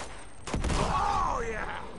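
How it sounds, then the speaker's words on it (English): Gunfire in the video game Uncharted 2: Among Thieves: a burst of shots strikes about halfway through, then continues as a dense, loud volley over the rumble and tonal effects of the game. "They're shooting at people."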